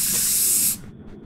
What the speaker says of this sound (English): You got the raid power up and it just shoots can of raid.